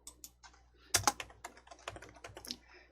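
Keys clatter on a computer keyboard in irregular bursts of taps, close and fairly quiet, with a dense cluster of strokes near the middle and no voices.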